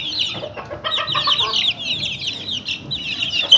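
Several young hens of a mixed breed, hatched from home eggs, with a young rooster just starting to crow, cluck and chirp busily together, close by and without pause, with no talk.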